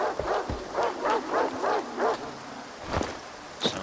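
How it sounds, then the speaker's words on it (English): Blind dogs in the video game S.T.A.L.K.E.R. 2 bark in a rapid run of about six yelping barks, moderately distant, followed by a few sharper isolated yips. "Sounds like a lot of blind dogs."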